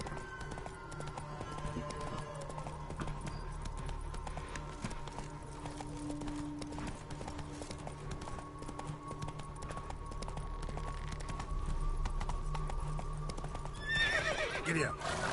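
A horse in the video game The Witcher 3 gallops with rapid rhythmic hoofbeats and neighs throughout, with a steady game soundscape underneath and a voice speaking at times.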